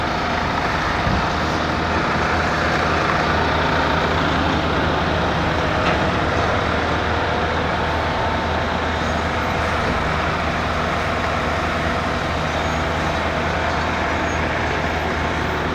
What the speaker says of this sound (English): he pours it into the other truck and then that other truck pumps it all the way down the back